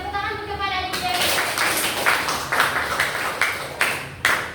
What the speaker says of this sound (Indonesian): Tepuk tangan kepada Adik Dewi.